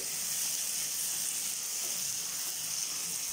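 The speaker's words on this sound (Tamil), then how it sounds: "வெங்காயம் தக்காளிலாம் நல்லா வதங்கி வந்துடுச்சு" Onions and tomatoes sauté in a pan with a soft, even sizzling hiss throughout, close and moderately loud with no distinct stirring strokes or voices.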